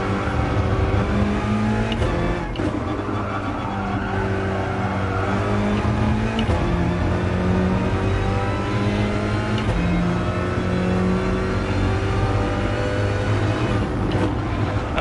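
Alfa Romeo race car in a racing video game, its engine revving high and climbing through the gears in a steady, loud drone with brief shift dips, heard alone with no talk.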